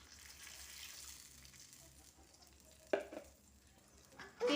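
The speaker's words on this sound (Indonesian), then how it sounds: "Oke, bunda tambahkan santan." Coconut milk is poured into a pot of shrimp cooking with papaya flowers and banana blossom, a faint wet pouring and simmering hiss punctuated by a couple of sharp clinks and splashes.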